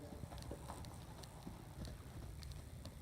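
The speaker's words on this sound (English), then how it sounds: "it's a lovely trot, isn't it?" Hooves of a horse trotting in a dressage session strike in an even two-beat rhythm, soft and somewhat distant over a low background hum.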